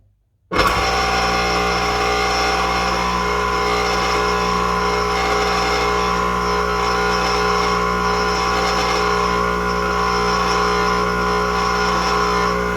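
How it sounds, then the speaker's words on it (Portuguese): An electric motor on a basic electrical training bench switches on abruptly and runs at a steady loud hum with a constant whine, unchanging for over twelve seconds with no talking. "Então, eu vou ligar o motor."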